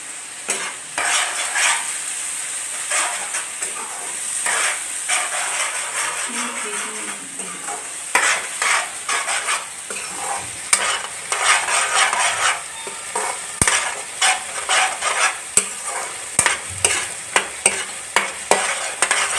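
Jackfruit blossom stir-frying in a pan with turmeric and salt: a steady close sizzle, then sharper rhythmic scrapes and clacks of a spatula stirring against the pan.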